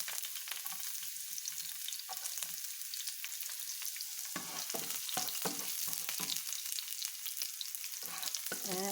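Ginger and garlic fry in a pan with a steady, bright sizzle, broken by short crackling bursts and a few stirring scrapes, with no talking.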